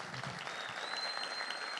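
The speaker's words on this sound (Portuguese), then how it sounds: "Você pode aplaudir a Jesus aí no seu lugar?" A church congregation claps steadily and continuously, a dense wash of applause filling the room without pause.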